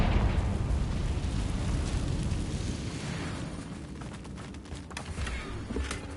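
Confringo blasting spell going off in Hogwarts Legacy: a loud, rumbling explosion that roars at first and slowly decays over several seconds, with a few sharper crackling pops near the end.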